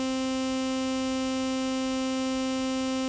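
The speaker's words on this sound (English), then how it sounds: "Saw is a bit buzzier." A sawtooth wave from a VCV Rack 2 software synthesizer drones continuously at a steady pitch, bright and buzzy with a dense stack of overtones, loud and alone.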